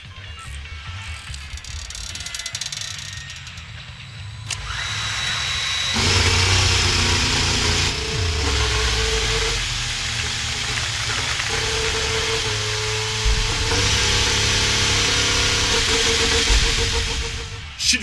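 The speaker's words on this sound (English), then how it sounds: "we fired up the engine for the first time with all the technical staff in attendance" An Aston Martin Honda Formula 1 power unit is fired up for the first time, catching with a loud, sustained mechanical roar and a steady high-pitched whine that build, hold and then fade.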